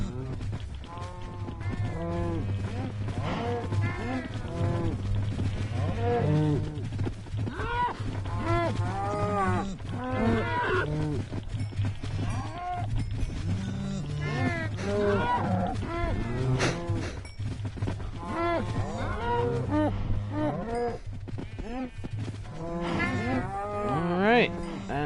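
Cows mooing repeatedly while being fed on a Minecraft Bedrock Edition farm, several overlapping low calls close by over a steady background hum, continuing throughout.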